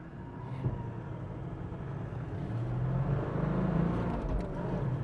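A Toyota LandCruiser 70 Series pulls hard from a standstill toward 100 km/h while towing against a heavy load, its engine drone building steadily louder and deeper over several seconds, close and continuous.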